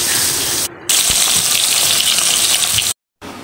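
Snakehead fish sizzling and spitting steadily in hot oil in a home kitchen pan, a loud, continuous close crackle with two brief dropouts and no talking.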